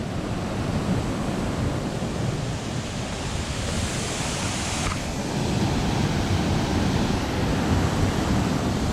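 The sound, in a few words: waterfall's flowing water, Cascadas Mismaloya near Puerto Vallarta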